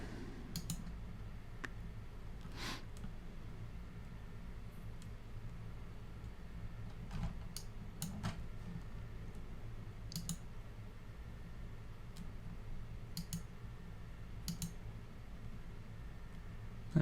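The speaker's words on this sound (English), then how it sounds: "I'm just clicking on these numbers" Mouse clicks from someone working in Blender 2.8 on a bat model, a few sharp isolated clicks scattered over a quiet, steady room hum, close and fairly faint with no talking.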